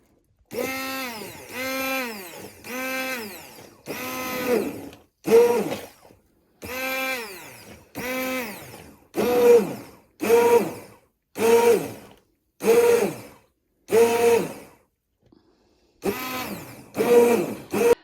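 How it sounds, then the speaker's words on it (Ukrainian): A blender whirs loudly in repeated short bursts, pureeing cooked apples, a dozen or so pulses separated by brief pauses, each with a rising motor whine. "Перебиваю блендером."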